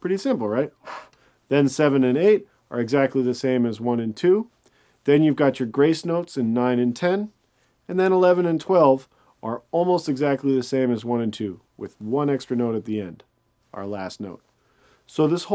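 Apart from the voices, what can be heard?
None of the usual background noises is heard.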